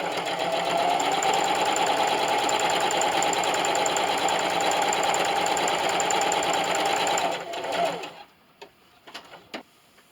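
A home sewing machine running steadily at speed for several seconds, stitching fabric along a line with a quarter-inch presser foot, then stopping and leaving a few light clicks and handling sounds.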